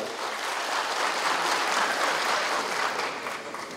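Steady applause from a crowd at a program launch ceremony, many hands clapping at once in a dense, continuous wash that holds level and eases slightly at the end.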